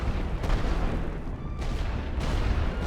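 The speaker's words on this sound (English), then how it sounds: "Chargez l'artillerie. Préparez un barrage total. Feu." Artillery barrage in the World War I video game Elite Great War Western Front: rumbling, overlapping booms and distant gunfire roll continuously in a noisy battlefield wash, with no voices.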